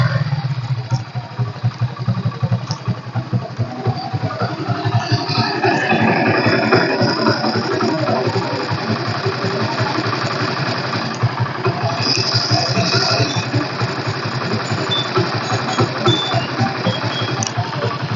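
A Bajaj Discover 100cc motorcycle with self start and alloy wheels runs steadily nearby, its engine holding a continuous, slightly clattering idle with no talk.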